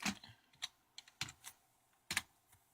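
Keys clack on a computer keyboard in a short, uneven burst of about eight distinct taps, close and fairly quiet, with no talking.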